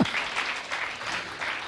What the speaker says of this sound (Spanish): Aplauden, aplauden.